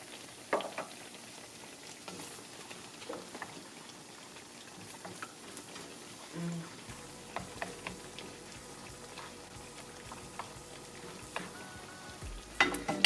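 Cap'n Crunch-coated French toast fries in a pan, giving a steady low sizzle and crackle with occasional scraping and clicks, no voices.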